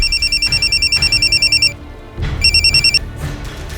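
A telephone rings loudly with rapid electronic trilling in two bursts separated by a short pause, close and clear.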